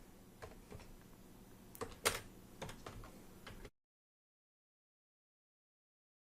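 Code being typed on a computer keyboard while programming an Arduino, a quick run of close, light key clicks of uneven rhythm for about three and a half seconds, then silence.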